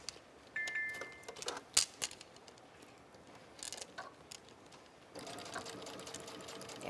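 A sewing machine fitted with a size 14 denim needle stitches vinyl for a zippered back project. Quick bursts of close, rapid mechanical stitching start and stop over a quiet room, with light clicks between runs.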